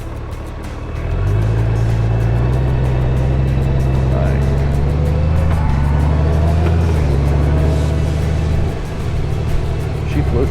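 A 2023 Honda Goldwing DCT Tour motorcycle pulls away and cruises, its engine a smooth, steady low hum that rises slightly in pitch and then settles under faint wind noise.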